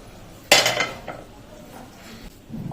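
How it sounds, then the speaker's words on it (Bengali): Roasted spices are being pounded in a mortar and pestle. One sharp, clanking strike is followed by a couple of fainter knocks against the bowl in a quiet kitchen. "তবে একটা হামাল দিস্তায় নিয়ে এটাকে গুঁড়ো করে নেব"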